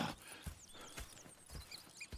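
Horses in the Red Dead Redemption 2 video game, with steady clip-clop hoofbeats landing about every half second and a faint whinny, close and clear, with no talking.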